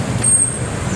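Roadside traffic in the Philippines, a steady mix of car, bus and truck engine rumble with a brief high hiss like an air brake, heard close and continuous with no talk.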